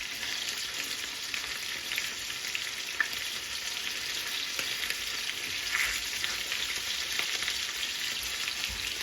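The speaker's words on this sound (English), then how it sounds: "just going to fry off our ginger garlic cube, get the rawness of it to go away" Cubed ginger and garlic fry in a hot pan, giving a steady dense sizzle and crackle with no break and a couple of faint clicks, heard close with no talking over it.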